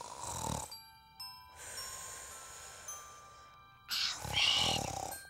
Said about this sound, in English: What can we do to make her quit snoring?